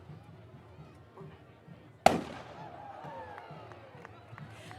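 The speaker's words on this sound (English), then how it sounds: "that was the Army ROTC cannon" A single sharp, loud blast from an Army ROTC cannon pulled by a World War II Jeep at a university homecoming parade, echoing off outdoors amid crowd noise and distant chatter.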